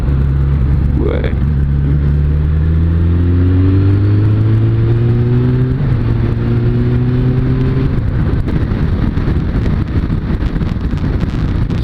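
Suzuki Bandit 600 motorcycle engine droning steadily while riding, pitch climbing in stages then dropping at gear shifts, loud and close with heavy wind buffeting throughout and someone talking over it.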